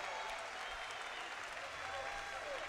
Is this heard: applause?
yes